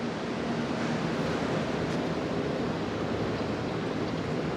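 The Colorado River at Laughlin, Nevada, flows as a steady, broad rushing wash that does not let up, with wind mixed in and no talking.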